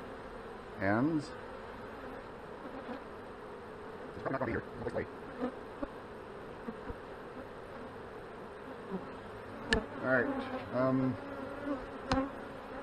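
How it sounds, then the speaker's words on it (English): Honey bees in an opened hive during an inspection, a soft, steady drone of many bees nearby, with occasional louder buzzes as individual bees pass close and a few brief words and handling knocks. "There's a ton of bees in here."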